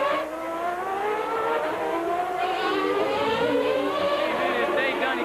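Formula 1 race cars at the 1991 US Grand Prix screaming around the track, high-pitched engine whine rising and falling as cars pass, heard at a distance under a commentator's voice.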